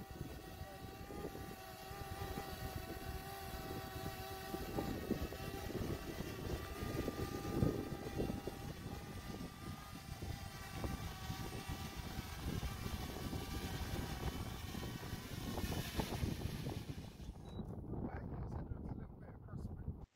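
Camera drone flying in a local country park, a continuous whirring propeller drone with steady tonal hum, moderately loud with wind buffeting and occasional voices, cutting out abruptly near the end.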